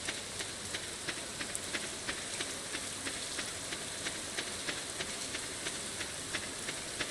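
Rain falls steadily in a farming video game, a soft continuous hiss with faint regular ticking accents throughout, quiet and without talk.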